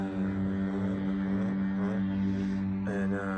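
An experimental wordless song played through 48 speakers in a living room, panned around the space, with sustained droning tones and shifting layered textures.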